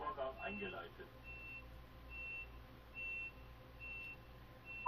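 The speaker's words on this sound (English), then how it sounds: "Right, doors are locking." Train door-locking warning beeps in a train simulator game, a faint steady series of evenly spaced tones behind a voice.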